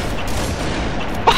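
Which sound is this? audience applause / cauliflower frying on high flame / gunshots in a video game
gunshots in a video game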